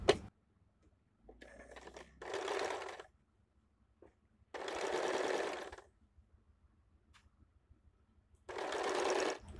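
Sewing machine stitching the side seam of a blouse, three bursts of rapid whirring needle chatter separated by quiet pauses with small handling clicks, close and clear.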